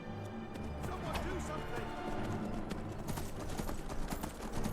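A horse gallops in the fantasy video game Skyrim, its rapid hoofbeats thudding steadily through the scene alongside other game sounds and a voice.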